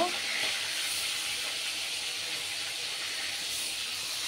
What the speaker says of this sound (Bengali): মাছ ভাজা বসিয়েছি